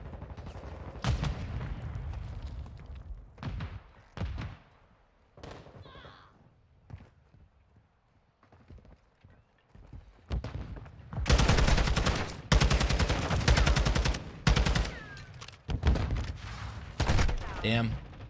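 Gunfight in Modern Warfare 2 ranked play: scattered single shots early, then a long dense burst of rapid automatic gunfire near the end, loud and close, with a player's voice talking in between.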